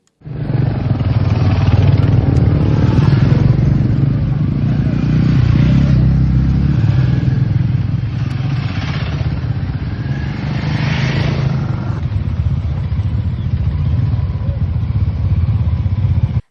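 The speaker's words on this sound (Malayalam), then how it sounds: "ബൈക്ക് റൈഡ് സംഘടിപ്പിച്ചു" Motorcycle engines drone loudly and continuously at close range during a group bike ride at Nelliyampathy, with passing bikes rising and falling as they ride by.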